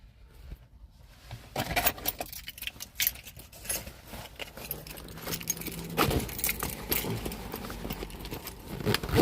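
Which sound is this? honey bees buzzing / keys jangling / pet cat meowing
keys jangling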